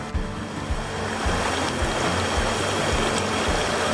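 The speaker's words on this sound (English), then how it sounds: "And the rapids are going a little bit faster than normal." Rushing river rapids on the Oconaluftee River in Cherokee, swollen and running fast after flooding, give a loud, steady churn of whitewater throughout with no voices.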